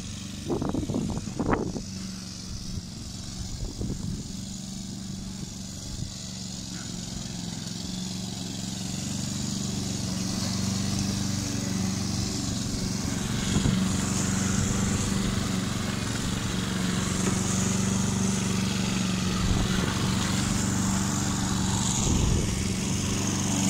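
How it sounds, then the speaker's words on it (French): A lawn mower engine drones steadily at close range, its steady hum rising slightly and holding throughout. "Voilà mon beau-frère avec sa tondeuse."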